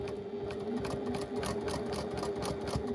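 A sewing machine stitches a quilt block, running steadily at close range with a continuous whirring hum and rapid needle chatter, alone without talk.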